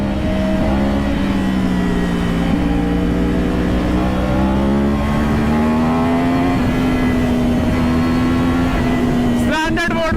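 A superbike in standard riding mode revs hard during a wheelie, its loud, close engine whine rising and wavering steadily, with a brief rattle near the end.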